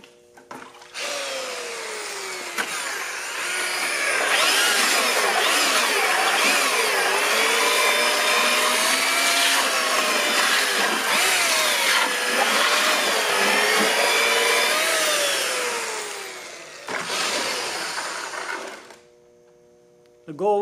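A power mixer churns concrete countertop mix with added fibers, a steady loud whir that holds for most of the clip, drops away briefly, then surges again before stopping.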